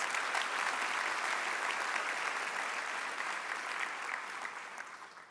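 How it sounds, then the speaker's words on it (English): Audience applause at a healthcare sciences school declaration ceremony, a steady, even patter of many hands clapping alone for several seconds, moderately distant and gradually tapering toward the end. "I would like you to acknowledge them by giving them a round of applause, please."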